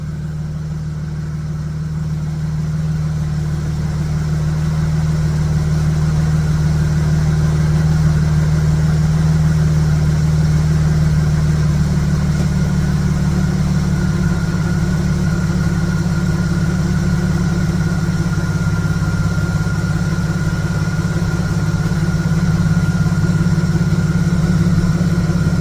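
A Dodge car engine with a Stromberg BXVES-3 carburetor idles steadily for a long stretch, with a loud, close, even rumble and a slight shift in pitch partway through, with no voices.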